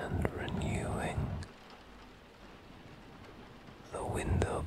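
Soft, steady rain hiss, heard mostly on its own in the middle stretch, with a whispering voice at the start and end.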